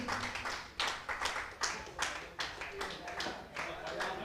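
Spectators at a Madkai Yuvak Sangh T20 cricket final clapping and cheering from a distance, a faint, fairly regular patter of claps with small swells of crowd noise.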